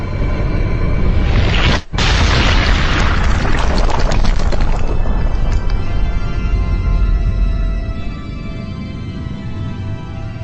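A colossus collapses in the video game Shadow of the Colossus with a loud, heavy rumbling boom that cuts off briefly, surges back, then slowly fades under lingering tonal music.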